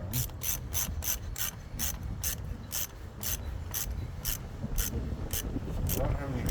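A hand ratchet clicks in a steady run of about fourteen sharp strokes while tightening the belt tensioner on a 1998 Lexus GS400 outdoors, each click close and crisp over a low rumble of wind.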